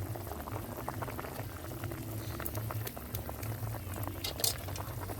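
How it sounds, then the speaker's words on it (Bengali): Fish curry gravy with spices and water bubbling at a rolling boil in a pan, a close, steady burble of popping bubbles with occasional sharper spits, no talking. "দেখুন বন্ধুরা কত সুন্দরভাবে আমার ঝোলটা ফুটছে।"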